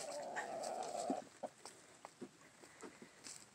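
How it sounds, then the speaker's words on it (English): A rooster gives a short, faint vocalization followed by scattered soft clucks and quiet clicks in a calm outdoor setting. "You're the prettiest rooster ever."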